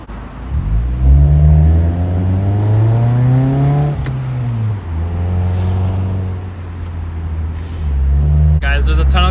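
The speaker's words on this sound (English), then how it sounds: "I'm gonna roll down my windows to get that full fart can exhaust experience" A modified Honda Accord with a loud aftermarket 'fart can' exhaust drones and revs while driving with the windows down, its engine note rising and falling in pitch in repeated sweeps, close and prominent.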